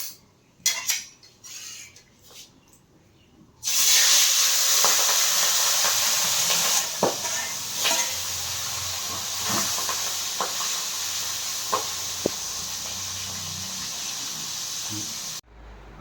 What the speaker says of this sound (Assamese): এফালে মাছ ফ্ৰাই কৰোঁ।